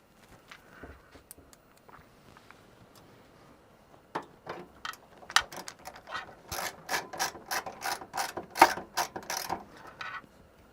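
Screws driven one after another into a PC case with a ratcheting screwdriver, a quiet start building into a dense run of sharp clicking bursts that grows louder and busier, with no voices.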